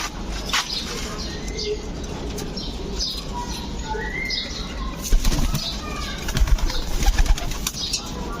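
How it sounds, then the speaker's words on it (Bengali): Caged pigeons being given water flutter their wings in repeated bursts, with soft coos and chirps nearby and louder flapping toward the end. "এখন কবুতরদেরকে পানি দিয়ে দিব। দেখেন কবুতর খাবে এটা।"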